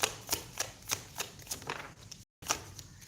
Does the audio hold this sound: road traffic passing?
no